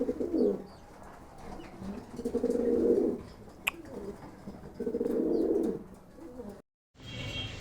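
Newly acquired pigeons coo in low, throaty bursts, two long rolling phrases with softer calls between them, close by in a quiet loft.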